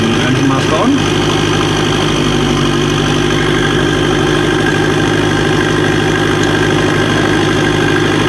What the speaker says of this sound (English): Machen wir Starting Right Engine. Engine Master on.